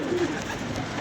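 A pigeon coos once, a soft low burst near the start over faint steady background noise, with no talk.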